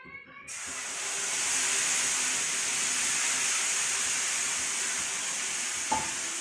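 Ginger, onion, garlic and green chili spice paste frying in hot oil with turmeric, a steady close hiss and sizzle that swells after the paste drops in and holds evenly, with a brief clink near the end.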